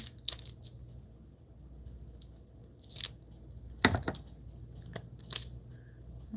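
Scissors snipping a label down to size for an apothecary jar, several quiet separate crisp cuts and papery rustles spread over a few seconds in a hushed room; no talking.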